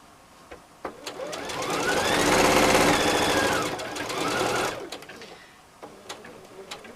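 A sewing machine stitches a cushion insert, pivoting at the corners. The close, rapid mechanical whir builds to a steady run, eases slightly, then stops, leaving faint handling clicks.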